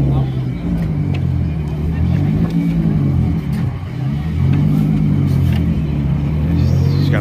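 A car engine rumbles steadily at an Import Alliance 2022 car meet in Atlanta, surging and revving in uneven waves before a drift, with a crowd's voices mixed in underneath.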